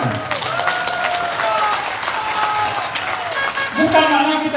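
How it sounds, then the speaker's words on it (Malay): Crowd applause at a political rally in Padang Serai, a steady wash of clapping and cheering from a large audience, with voices and a speaker's amplified tones over it. "Tepuk tangan."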